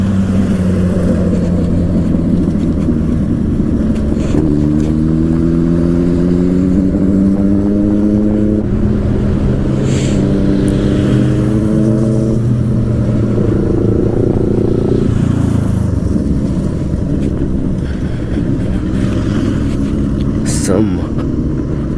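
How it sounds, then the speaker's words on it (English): Powerful motorcycles pass on a road between Goa and Pune, their engines rising and falling through repeated gear changes and revs, loud and close over a steady roar of wind and road noise, with talking heard over the top. "really powerful bikes, man."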